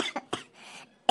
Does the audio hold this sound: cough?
yes